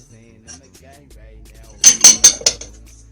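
Sugar and eggs being mixed in a bowl for banana bread, heard as four quick loud clinks and scrapes of a utensil against the bowl in a burst after a quiet lead-in.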